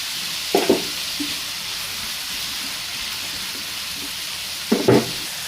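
Potatoes and bitter gourd with turmeric frying in a pan, a steady broadband sizzle holding throughout, broken by two brief clattering knocks near the start and end as the vegetables are added or stirred.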